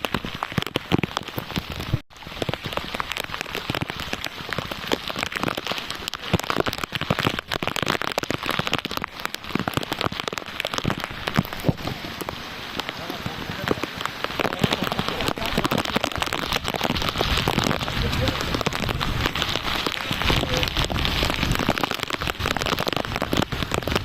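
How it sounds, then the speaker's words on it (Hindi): Heavy, continuous rain falls in a jungle on a trek, a dense, steady hiss of drops striking leaves and ground, loud and unbroken for the whole stretch with no voices. "ऐसी लगातार बारिश हो रही है"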